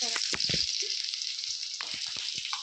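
Chopped onion hitting hot oil for a sweet-and-sour tomato chutney, giving a steady close sizzle with a few low clinks and bumps early on.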